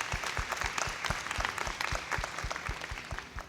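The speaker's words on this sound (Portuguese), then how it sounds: "Acho que merece um aplauso." Audience applause at a climate and ESG conference panel, dense steady clapping from many hands with sharp individual claps standing out, moderately close and continuous throughout without speech.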